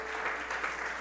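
A church congregation clapping in praise during a service, with a short burst of steady mixed applause filling the room.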